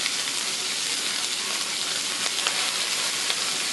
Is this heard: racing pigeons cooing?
no